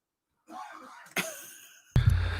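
A single close cough rings out in a quiet room, preceded by soft breathy throat sounds and followed by a sharp thump.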